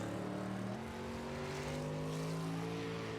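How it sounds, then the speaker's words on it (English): Matt Dow's number 57 race car rolls out onto the track at a Rory Price Memorial race, its engine holding a loud, steady drone with a slight rise in pitch partway through. "Next car to roll out is the 57 machine of Matt Dow."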